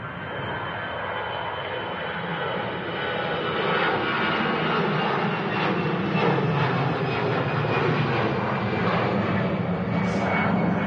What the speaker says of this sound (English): Slightly uncommon Austrian Airlines A320 heading back to Vienna.